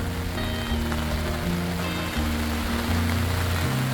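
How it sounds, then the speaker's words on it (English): Rain falls steadily at a mountain campsite in Colorado, a dense even patter, with low tonal humming or music running underneath throughout. "it's a bummer, but we need the rain."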